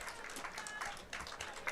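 At a high school baseball game, the home crowd claps for the departing starting pitcher. The applause is faint and distant, with scattered bursts of clapping across the stands.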